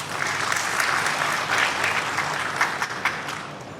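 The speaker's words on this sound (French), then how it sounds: "que je vous prie d'applaudir" A large audience at an official state gathering in Bamako applauds Burkina Faso's president, Captain Ibrahim Traoré, in a dense, sustained ovation. The clapping thins slightly near the end, where a few louder individual claps stand out.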